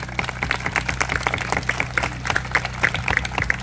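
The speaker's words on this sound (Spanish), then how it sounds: "un aplauso para ellos y para la señora también" Sparse applause from a small gathering, individual claps clearly separated and moderately faint over a steady low background hum, continuing at an uneven rhythm.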